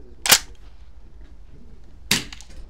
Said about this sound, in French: Donc on va tirer 2 munitions